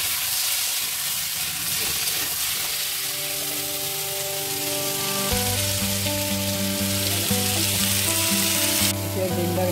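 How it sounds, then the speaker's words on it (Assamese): Sweet pumpkin pieces fry in hot oil with whole spices including panch phoron, cardamom, nigella, chilli and fenugreek, giving a loud, close, continuous sizzle with a steady hum underneath and no speech. "এতিয়া মই মিঠা লাওটো দিলোঁ তেলত।"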